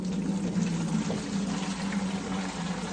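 Liquid feed pours steadily into a 10-litre watering can, a continuous hollow rushing trickle with a resonant low tone, unbroken throughout.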